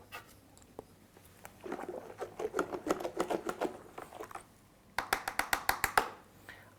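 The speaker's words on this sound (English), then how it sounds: "I'm just going to give it a stir now" Wine must being stirred in a home-brewing fermenter gives a run of rhythmic, close-up swishing and sloshing strokes, followed by a quick burst of sharper, faster strokes near the end.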